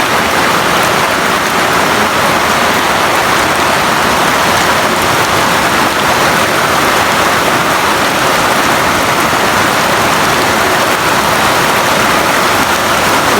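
A typhoon's heavy rain hammers down in Bataan, a thick, roaring wash of water that stays loud and unbroken throughout, with no voices.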